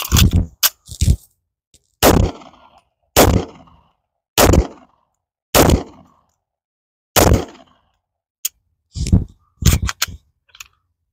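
Canik SFX Rival pistol gunshots ring out as about ten sharp, loud, close reports, irregularly spaced with pauses between, some in quick pairs near the end, with no talk.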